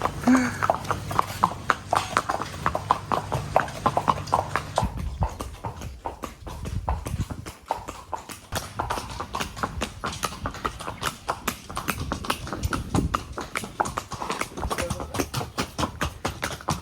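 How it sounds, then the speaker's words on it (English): Horses' hooves clip-clop steadily on a road on Gili Air, a quick, even, close rhythm that carries on throughout, with people talking over it at times. "The pace of our horses is picked up because they know the house is near"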